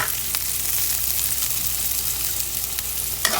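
Garlic frying in a pan for a chicken dish cooked in Sprite, a steady close sizzle with light crackles and a few sharp clinks of stirring.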